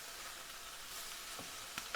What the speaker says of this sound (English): We've just been dry frying them with no oil at all.